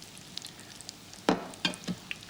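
Fish fries in oil in a pan with a soft, faint sizzle, broken by a few louder bursts of spitting and bubbling, no voices present.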